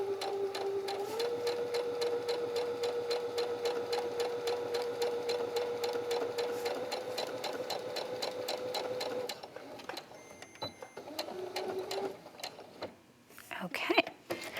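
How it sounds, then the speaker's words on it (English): A sewing machine stitches a straight seam along the center back of a mitered dress collar, its needle hammering in a rapid, even rhythm for several seconds before pausing, restarting briefly, then stopping amid a few soft handling noises; a voice speaks faintly underneath. "So just sewing right along that center back,"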